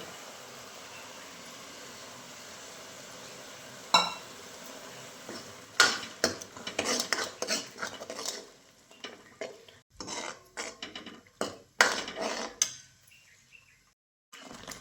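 Onion and tomato paste are stirred and sautéed in oil in a pan for a paneer curry; after a quiet start, a spoon scrapes and knocks against the pan in repeated close strokes with a soft sizzle.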